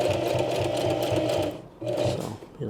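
A sewing machine stitches a small coin purse in close, loud bursts of rapid whirring, pausing briefly twice before starting again.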